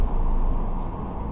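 A car drives along during a driving lesson, its engine and road noise forming a steady low interior rumble, with no talk in between.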